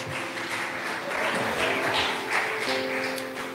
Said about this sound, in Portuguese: Assentados, você pode aplaudir ao Senhor bem forte.